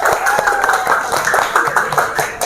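Schoolchildren clapping for a classmate in a classroom, a loud, close burst of many small hands with overlapping voices.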